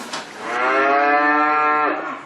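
A Montbéliarde dairy cow on a cheese-making farm lets out one long, loud, close moo lasting nearly two seconds, heard alone.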